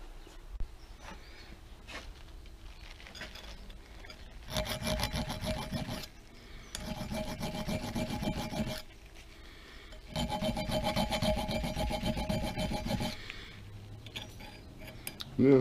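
A hand file rasps over hot-rolled metal on the apron of a Pratt & Whitney Model B lathe, with two long bursts of steady rhythmic strokes separated by quieter handling and tool clinks, close and fairly loud.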